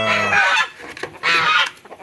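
Heritage chickens cluck and call loudly nearby in two bursts, with quieter scratchy farmyard noise between.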